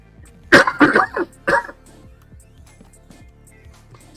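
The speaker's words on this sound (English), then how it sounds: "Still fighting off that cough." A person coughs close to the microphone, three or four harsh bursts in quick succession, then quiet with faint ticking background sounds.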